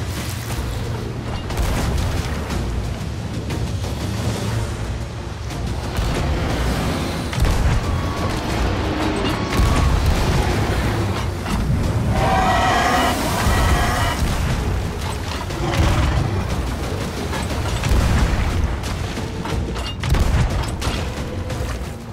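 Cannon fire from enemy pirate ships in Sea of Thieves, a sustained barrage of heavy booms and bursts rumbling over about twenty seconds, loud and overlapping, with a brief burst of voice near the middle.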